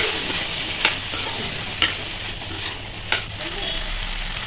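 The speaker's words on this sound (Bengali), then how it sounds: "দিয়ে দেবো জিরা গুঁড়ো তারপরে দিয়ে দেবো ধনিয়া গুঁড়ো আর দিয়ে দেবো অল্প একটু চাট মশলা দিয়ে ভালো করে আমি আলুটা ভেজে রান্না করে নেব" Potatoes fry in a pan with cumin powder, coriander powder and chaat masala, giving a continuous soft sizzle broken by three sharp spoon clinks as the pan is stirred, and no one speaks.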